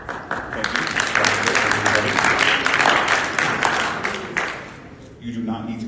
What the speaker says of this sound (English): You do not need to clap